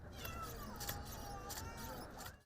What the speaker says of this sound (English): Lego's Boost, a robotics program that lets you interact with a hissing and purring cat